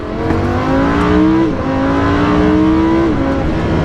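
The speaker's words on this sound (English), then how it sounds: "The shifts are just the second you click the paddle, you're upshifting or downshifting." A Lamborghini Huracan in Corsa mode revs loudly and climbs through the gears, with paddle shifts breaking the rising engine note twice in quick succession, close and alone.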